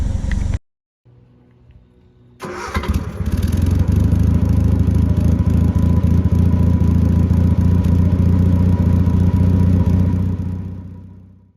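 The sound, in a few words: Triumph Spitfire engine idling after Weber carburetor tuning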